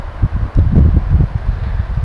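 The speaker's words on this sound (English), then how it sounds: "It's getting windy out here." Gusty wind buffets an outdoor microphone in loud, uneven low rumbles, surging and easing over a couple of seconds with no one speaking.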